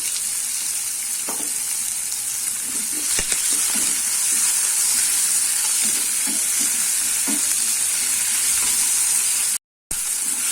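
Tomato and onion sautéing in a pan with salt, a constant close sizzle broken by a few soft stirring knocks, no voices.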